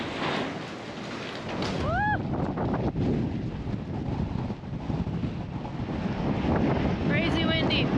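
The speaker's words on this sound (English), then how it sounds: "It's very windy out there," Strong wind buffets the microphone with a heavy, continuous low rumble outdoors in the Alaskan tundra; brief voices and tonal sounds come through.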